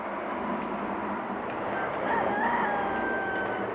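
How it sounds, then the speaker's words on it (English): A rooster crows in the distance outdoors, one drawn-out call rising and falling over steady background noise. "He's going to say I love you. Here he goes."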